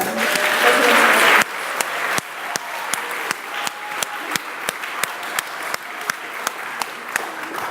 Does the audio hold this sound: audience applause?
yes